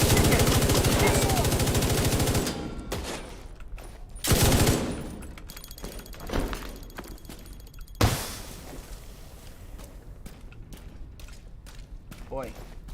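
Rapid automatic gunfire from a Division 2 firefight, a loud sustained burst for the first couple of seconds, then scattered bursts and single shots trailing off, with a voice speaking over the action.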